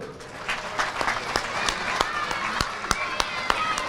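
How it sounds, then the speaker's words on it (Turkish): Scattered, uneven clapping rises from a gathering at the opening ceremony of İzzet Altun primary school, with sharp individual claps over crowd murmur and voices. "Mehmet Altun amcayı alkışlıyorum"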